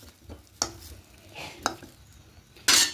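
A spoon stirs a potato and poppy seed mixture for vegetarian white aloo posto in a pan, giving a few separate scraping strokes over quiet background, with the last stroke loudest.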